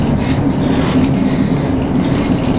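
Steady rumble of a train running toward Glasgow Central while racing a Pendolino, heard from onboard: continuous, fairly loud rolling and rail noise with no talking.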